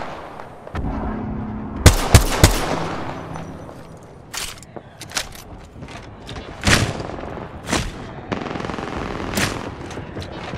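Video game gunfire: a close rapid volley of sharp shots followed by scattered single bursts and cracks, loud and spaced irregularly over a quiet background.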